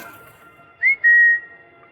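A person whistles clearly and close by: a short rising note, then a long, steady held tone, alone against a quiet background.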